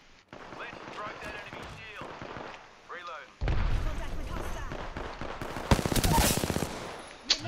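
Video game gunfire from Apex Legends, loud bursts and rapid automatic firing in the second half of the clip, preceded by quieter game sounds, with excited voices talking over it.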